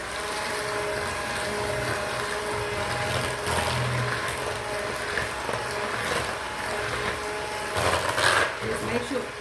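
An electric mixer blending eggs into lemon pound cake batter in a home kitchen, running as a steady whirring drone with occasional clatter, fairly close, with a voice talking over it at times.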